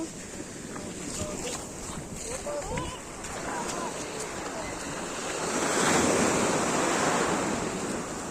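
Ocean waves wash continuously onto a beach, swelling louder toward the end, with wind noise and faint voices in the background.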